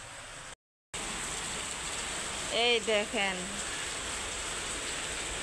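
Heavy rain pours steadily outside a home in Bangladesh, a dense, constant hiss that runs through the whole stretch apart from one brief dropout, with a person speaking briefly over it partway through.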